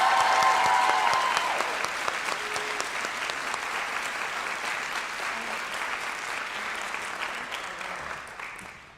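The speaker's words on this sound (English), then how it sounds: "Can we have another round of applause for our award recipients?" Applause for award recipients at a nurses pinning ceremony: an audience claps steadily, loudest at the start and then settling into an even, moderate round that tapers off after about nine seconds.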